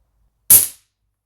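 A single rifle shot fired while aiming through a OneLeaf Mars MT1000 thermal scope at a hot bolt outdoors: one sharp, loud crack with a short decaying tail, then silence.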